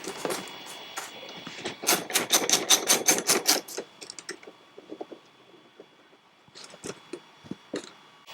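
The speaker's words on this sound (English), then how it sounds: "we're going to remove the bolt that holds the tie rod end to the stub axle using a 5mm Allen key and a 13mm ring spanner" A bolt holding a tie rod end to a stub axle is worked loose with a 5mm Allen key and a 13mm ring spanner. It makes close, sharp metallic clicks and ratcheting taps, with a fast run of clicks in the middle and sparse ones afterward.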